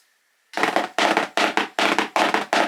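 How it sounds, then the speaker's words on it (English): Seven sharp, evenly spaced drumstick taps on a Pearl practice pad, each a crisp near-field smack with a quick decay, played alone at a steady pulse. "We started out with this pearl practice pad"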